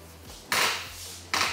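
Metal prongs clinking while a piece of furniture is being assembled, two sharp bright metallic hits with a short ringing tail, close and fairly quiet.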